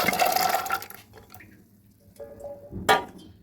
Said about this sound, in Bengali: আমি কুকারে ঢেলে নিচ্ছি